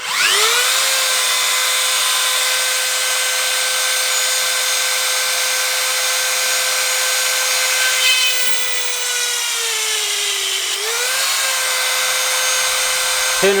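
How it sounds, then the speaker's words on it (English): Close and loud, a Dremel rotary tool grinds to widen a hole in a penny resting over a hole in wood, its steady high whine spinning up fast, dipping briefly under load near the end, then recovering. "So let's get this Dremel going."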